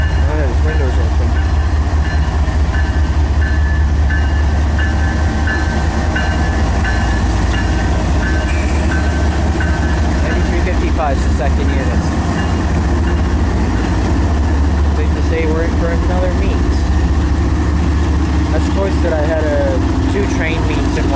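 A freight train heading eastbound toward White River, Ontario, rumbles steadily past with a deep, continuous low roar and rattling wagons, loud and close, with faint squeals rising toward the end.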